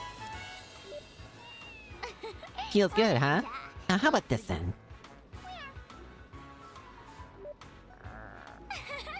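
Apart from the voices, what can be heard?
cat meowing in Trails to Azure video game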